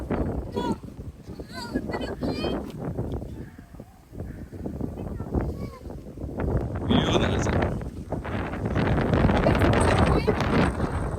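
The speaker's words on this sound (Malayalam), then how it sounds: "നല്ല കാറ്റുണ്ട്." Strong wind at a hilltop trekking viewpoint at Amboori Kurisumala, gusts buffeting the microphone in loud rumbling surges that rise toward the end, with people talking throughout.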